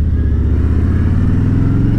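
Steady low rumble of a Harley-Davidson Road King Standard with its Milwaukee-Eight M8 engine while riding, a close, loud, even drone with no talk over it.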